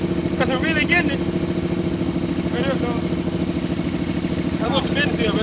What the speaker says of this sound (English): This looks like a Kubota diesel tractor. Four-wheel drive diesel Kubota.